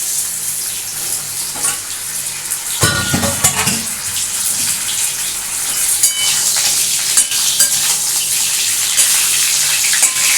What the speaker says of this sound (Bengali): বোয়াল মাছটা কিন্তু আমি এখনই এই বেগুনের মধ্যে ছেড়ে দিচ্ছি